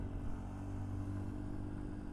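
A Chinese Pulse motorcycle runs along the road, its engine a steady low drone with a constant wind-like rush, moderately quiet and without talk.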